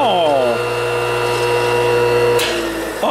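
A fast-spinning electric motor runs close by with a loud, steady high whine and a low hum, a pitch sweep as it settles at the start and a brief clunk near the end, no talking.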